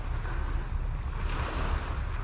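Steady rush of ocean surf washing in at Luk Keng Bay, Hong Kong, loud and close, mixed with heavy wind buffeting the microphone.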